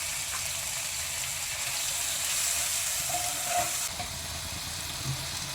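Two finely chopped tomatoes fry in a pan with ginger-garlic paste for egg pulao, giving a steady, close sizzling hiss that holds throughout with no talking.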